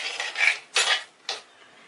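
Metal utensil scraping and clinking in a cooking pot as spices and bay leaf are stirred, three short bursts of stirring with pauses between, close and fairly loud.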